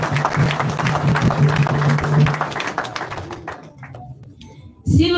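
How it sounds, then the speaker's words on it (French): A political rally crowd claps and cheers in a dense, steady burst of applause for about three seconds. The clapping thins out and fades, and a voice starts up near the end. "Humblement, je vous invite à applaudir cet acte républicain."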